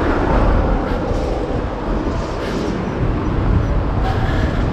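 A Hankyu train passes on the tracks near JR Motomachi station in Kobe, making a steady, loud wash of rolling rail noise that holds for several seconds.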